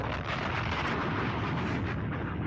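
A bomb explosion sound effect, a loud, dense, rumbling blast that holds a sustained roar for a couple of seconds without fading much.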